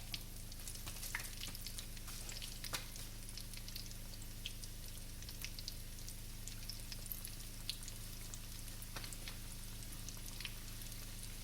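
Hush puppies of fried cornmeal dough deep-fry in hot oil with a continuous, even crackling sizzle and scattered small pops throughout, no voices.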